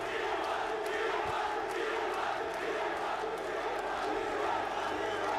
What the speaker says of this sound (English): And you can just hear the crowd.